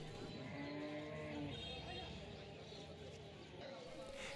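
Cattle low and moo repeatedly at a busy village cow market after being unloaded from a truck, the calls steady over a constant background din with voices talking nearby.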